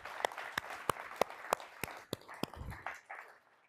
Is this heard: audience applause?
yes